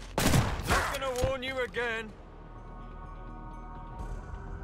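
A rapid burst of gunfire in the video game Mutant Year Zero, several sharp shots in quick succession, followed by ringing electronic tones that fade into a quiet hum.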